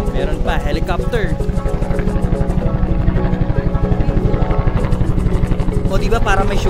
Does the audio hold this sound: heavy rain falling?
no